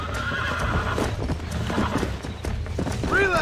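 A horse gallops with rapid clip-clopping hooves and then lets out a high whinny near the end, set in the video game Red Dead Redemption, loud and close with no talking.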